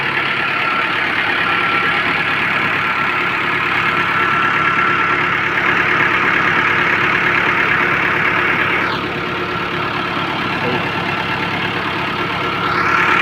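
A tractor pulling an Italian maize sowing machine through a Punjab field runs with a steady, close engine drone that stays even throughout, dipping slightly near the end.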